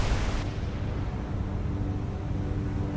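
A ship's magazine explodes in the naval game War on the Sea, a heavy broadband roar with a sharp opening burst that gives way to a long rumbling low-end wash, loud and sustained.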